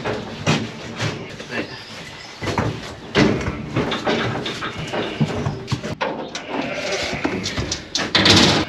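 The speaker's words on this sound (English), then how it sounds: "All the lambs in there, then ewes are going to go in the back of the trailer." Sheep and lambs bleat repeatedly while being loaded into a trailer, mixed with metallic clanks and hoof clatter against the trailer floor, busy and close throughout.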